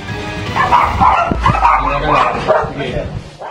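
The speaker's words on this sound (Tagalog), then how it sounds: "Sinalubong ng mga aso ang mga pulis pagpasok sa target area sa Caloocan." Several dogs barking and yipping excitedly at police entering a raid target area, a rental property in Caloocan, with close loud barks overlapping and a whimper among them, mixed with voices talking.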